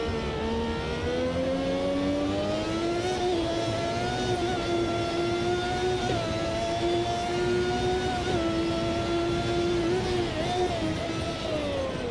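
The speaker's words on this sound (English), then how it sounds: "I love going under that tunnel. You hear the engine reverberate." A Formula 1 car engine in the Automobilista 2 racing game, driven at Montreal 1990, drones steadily at high revs with rising and falling pitch, loud and continuous throughout with no talk.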